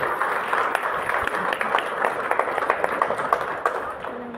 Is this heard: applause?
yes